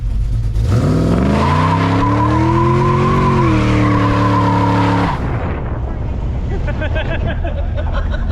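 Pontiac Firebird doing a burnout, its engine revving hard with rising harmonics as the tires squeal loudly for several seconds, then the roar drops away into hissing tire smoke and lingering rumble.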